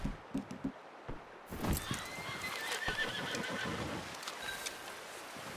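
In Red Dead Redemption 2, a horse gives a loud, quavering whinny over a few clip-clopping hoofbeats, close by and set against outdoor ambience.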